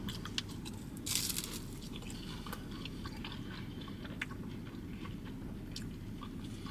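A crunchy egg roll with sausage inside is chewed up close: a crisp bite, then repeated crackling crunches of mastication over quiet room background, with no talking.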